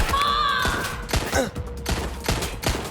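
Gunfire in a Watch Dogs Legion firefight, a rapid series of sharp loud shots in uneven bursts, close by, with brief shouting voices mixed in near the start.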